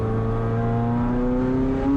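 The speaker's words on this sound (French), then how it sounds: "Imaginez ce V8 qui s'éveille derrière vous. Le grondement du moteur, les turbos qui sifflent" Ferrari F40 twin-turbo V8 engine roaring steadily and close, a dense droning growl with strong layered harmonics and a faint high whir on top, holding level throughout with no voices.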